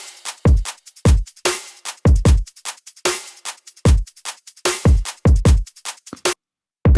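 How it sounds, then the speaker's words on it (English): Full future bass drum kit pounding through a drop, punchy kicks and sharp snares hitting in a fast, syncopated pattern, loud and upfront with a brief gap near the end. "In the drop, we start with the full drum set."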